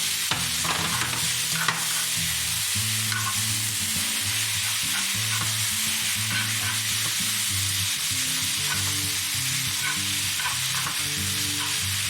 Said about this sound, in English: Get a little swish around, put the shrimp in there now.